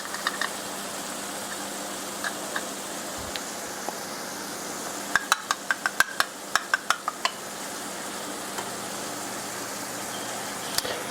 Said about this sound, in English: We're just going to give this a nice mix.